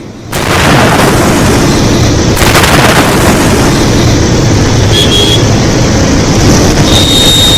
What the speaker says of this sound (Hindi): जहां पर धमाका हुआ उसका सीसीटीवी फुटेज है ये